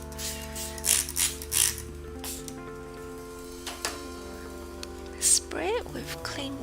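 Several quick bursts of a spray bottle misting clean water onto a watercolor painting, loud hissy spurts spaced apart, with faint background music underneath.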